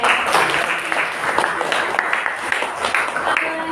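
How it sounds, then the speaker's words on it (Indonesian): A classroom audience applauds a student named Lia after her presentation on Archimedes' law. The clapping is dense and continuous, moderately loud, with a few brief voices mixed in. "Tepuk tangan dulu untuk Lia."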